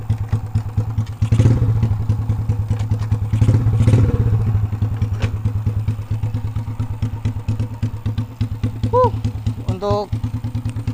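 A Choppy Cub chopper motorcycle engine runs with a steady low thumping putter close by, while a person talks over it.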